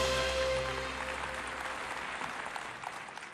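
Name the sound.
applause welcoming a speaker at award ceremony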